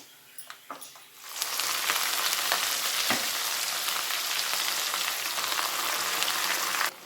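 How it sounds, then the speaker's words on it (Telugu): After a few light clicks, gongura (sorrel) leaves drop into hot tempering oil for pickle and a loud, continuous sizzle and crackle fills the rest of the clip, with occasional stirring clinks. "ఇప్పుడు పక్కన పెట్టుకున్న గోంగూర వేసేసుకుందాం తాలింపులో"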